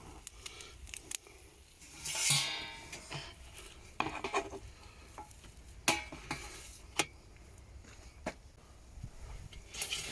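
A foraged wild mushroom omelette, made with shaggy ink caps and eggs, finishes cooking in a pan. Faint sizzling sits under occasional soft scrapes and light knocks of a utensil against the pan.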